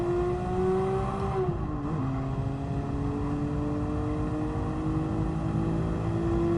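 A steady car engine drone in a racing video game, with a rising and falling pitch, briefly dipping as if shifting gears, runs continuously and loud without any voices.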